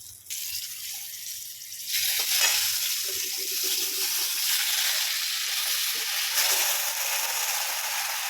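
Pasta frying in a pan with turmeric gives a steady bright hiss that jumps louder after a couple of seconds and holds, with faint clinks and stirring underneath.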